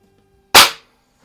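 A single sharp crack of a Norica Dream Hunter .177 underlever spring-piston air rifle firing a light lead pellet, loud and close, with a brief fading tail and quiet before it.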